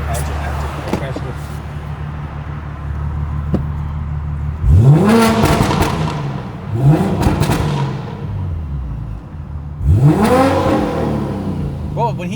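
A built BMW M3 engine revs hard three times, each sweep climbing sharply then falling back, loud and close over a steady idle, with people talking in between.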